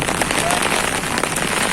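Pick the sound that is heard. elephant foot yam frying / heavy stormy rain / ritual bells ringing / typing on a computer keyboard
heavy stormy rain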